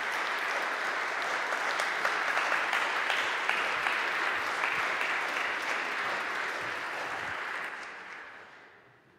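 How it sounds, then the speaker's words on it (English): A church congregation applauds the choir on Good Friday, a full, sustained round of clapping that stays dense for several seconds before tapering off at the end. "I think we can give a round of applause for the great sound you did."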